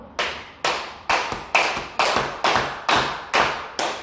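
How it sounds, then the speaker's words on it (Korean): Hapjang clapping, palms struck flat together from fingertips to wrists for a dull, full sound: nine loud, close claps in a steady, even beat with short ringing decays and no talk over them. "이렇게 치시는 게 합장 박수예요"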